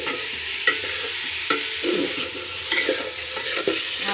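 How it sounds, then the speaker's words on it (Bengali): Vegetables for a veg dal sizzle in hot oil while a spatula scrapes and stirs the pan in irregular strokes, with occasional sharp clinks against the metal. "ভেজ ডালের এই যে সব ভেজে কষানো হচ্ছে"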